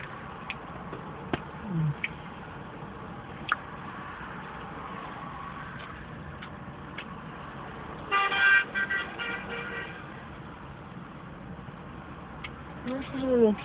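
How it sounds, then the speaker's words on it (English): Car horns honk in surrounding traffic, heard from inside a car: a loud cluster of toots in the middle and another burst at the end, over a steady road hum with faint ticking. "Everybody's honking at this chick. It's getting really obnoxious."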